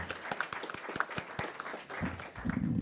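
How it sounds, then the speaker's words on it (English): Audience applause for event sponsors at a young professionals' lunch-and-learn, a fairly dense patter of clapping that builds toward the end amid room murmur. "Let's all give a round of applause to all of our sponsors."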